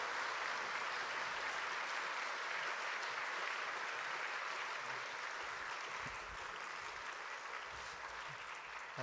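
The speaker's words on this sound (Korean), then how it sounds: "우리 바울 박수로 할렐루야 하면서 환영합니다" A church congregation applauds to welcome a guest speaker, a steady, even wash of clapping sustained throughout, heard from a distance.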